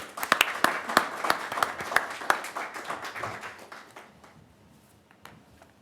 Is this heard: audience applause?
yes